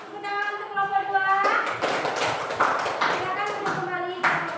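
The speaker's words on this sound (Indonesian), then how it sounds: "Tepuk tangan untuk kelompok 2." A primary school class claps for a presenting group, a dense burst of many small hands starting after a moment of voices and ringing tones, then continuing steadily at moderate loudness with children's voices mixed in.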